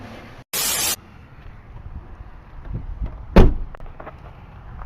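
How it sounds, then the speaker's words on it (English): The door of a Jeep Grand Cherokee ZJ with previous body damage swings shut in a single solid thump near the middle, preceded by a short burst of hiss and followed by quiet background rustle. "This door closes good"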